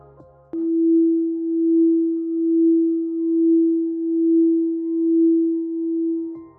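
A single sustained synthesized tone holds one pitch while its loudness swells and dips in slow, even waves, starting abruptly and cutting off at the end.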